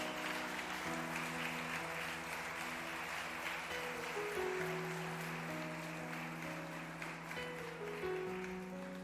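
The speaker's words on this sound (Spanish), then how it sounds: "Dale un fuerte aplauso al Señor, iglesia." Church congregation applauding the Lord during a Spanish-language sermon on resurrection power, a sustained wash of clapping heard from some distance, with held organ or keyboard tones playing underneath throughout.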